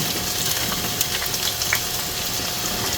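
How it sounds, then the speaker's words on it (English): Steady, close sizzling and crackling of spaghetti sauce ingredients frying in a hot pan, a constant hiss with small pops and no talking. "Listen to that sizzle, y'all."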